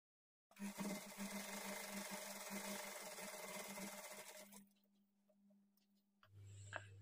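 A sewing machine stitches a blouse in one sustained, steady run of about four seconds, then stops, leaving low background noise and a faint thump at the end.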